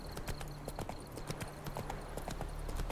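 Horse hooves clip-clop at a steady trot in The Witcher 3, a brisk rhythmic patter of repeated thuds under light game ambience, with a brief spoken remark.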